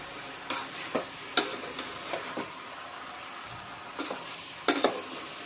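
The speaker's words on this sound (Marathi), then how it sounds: "आपण सगळं मीठ, हळद, टमाटर, कोथिंबीर टाकल्यानंतर थोडं असं त्याला हलवून घ्यायचं" Biryani masala with salt, turmeric, tomato and coriander is stirred in a pan over a low flame, a soft continuous sizzle broken by light repeated scrapes and clinks of the spoon against the pot.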